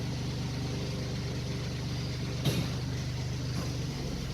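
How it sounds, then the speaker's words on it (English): A Bobcat skid steer loader engine idles with a steady low diesel drone and hum, constant and moderately near, broken by a single brief clank partway through. "we're going to leave the Bobcat at an idle"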